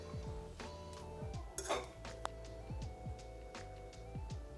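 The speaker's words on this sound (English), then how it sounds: "now I'm just going to fluff it up with a fork" A metal fork scrapes and clinks against a pot while fluffing cooked cumin-infused rice, with soft repeated scraping, a few sharper clinks, and faint, fairly quiet kitchen ambience.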